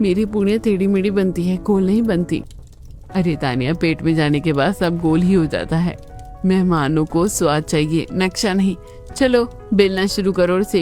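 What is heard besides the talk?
None of the usual background noises is heard.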